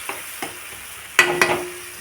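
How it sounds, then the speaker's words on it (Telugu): Ridge gourd drops into masala in a pan, with a few sharp clattering knocks of the spoon and a soft sizzle under them, close and otherwise quiet. "బీరకాయ వేస్తున్నాను. మసాలా అయితే వేసేసా."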